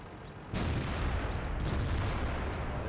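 Tank cannon shot in World of Tanks, one sudden loud boom followed by a sustained rumbling roar with no talk.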